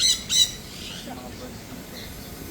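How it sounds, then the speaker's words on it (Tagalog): Two short, sharp bird squawks ring out at the start. After them a steady hum of mixed bird calls fills the aviary of an ocean park biodome in Manila. "Ang daming ibon"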